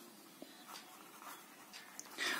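Pen or pencil marks on paper while numbers are written out for a class 9 algebra problem on simultaneous equations: a few faint, short scratches and taps in quiet surroundings.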